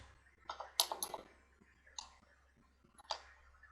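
A computer keyboard is typed on in a quiet room, with scattered light key clicks in small clusters and pauses between them, close and soft over a low hum.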